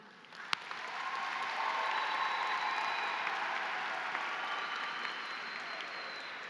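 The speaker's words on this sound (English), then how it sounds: "let's give a big round of applause to them" Graduation crowd at a Matoaca High School Class of 2023 ceremony clapping steadily, a broad wash of applause that swells after a moment and holds, heard from some distance with no talking.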